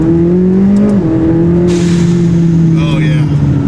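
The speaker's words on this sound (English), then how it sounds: "The sound with the VR exhaust system just sounds way more aggressive." A McLaren 570S with turbo and VR exhaust pulls hard, its loud, close engine drone holding a steady rising pitch, briefly dropping at a gear change, while someone speaks over the roar.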